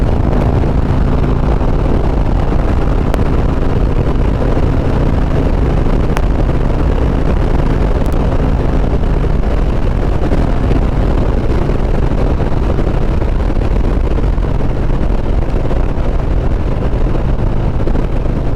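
Steady low rumble of a Harley-Davidson motorcycle's unmodified 114 engine running continuously, loud and close, with wind buffeting across the whole stretch.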